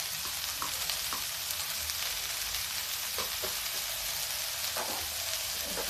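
Chili peppers fry steadily in hot oil for quick chili pickle, with a continuous close crackling sizzle and occasional light scraping of a spoon.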